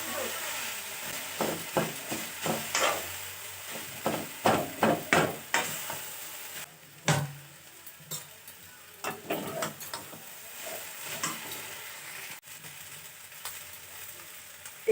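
Sugarcane jaggery frying in a pan while being stirred for a chalta pickle, giving a steady sizzle with rhythmic scraping strokes of the spoon, close and fairly quiet, with no talking.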